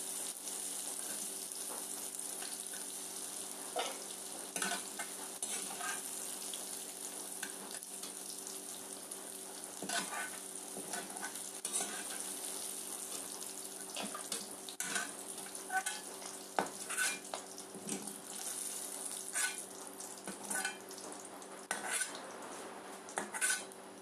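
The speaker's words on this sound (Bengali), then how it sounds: "ভাজাগুলিকে নামিয়ে নিচ্ছি।" Potatoes and nuts fried in a pan for a Maggi dish are stirred and lifted out, a steady sizzle of frying running under repeated scrapes and clinks of a utensil against the pan, close and continuous with no talk.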